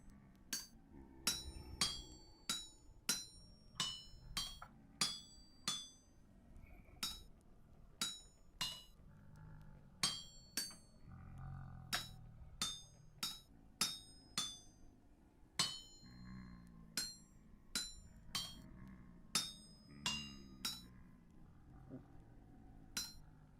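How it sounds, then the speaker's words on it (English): Metal being chiseled at an anvil while smithing in the video game Vintage Story: a long series of sharp, ringing hammer-like strikes, irregularly spaced and fairly loud, over low background noise with no talking. "now I can chisel it"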